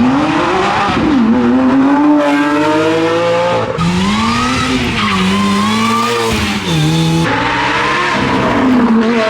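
An Ultima GTR storms up a hill climb course, its engine loud and close, rising and falling through repeated gear changes with sharp upshift breaks, no voices over it.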